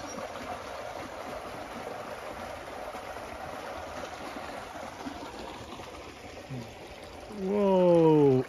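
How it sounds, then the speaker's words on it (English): A small creek used for gold sluicing flows with a quiet, steady rush throughout, and a voice breaks in briefly near the end. "It's a creek."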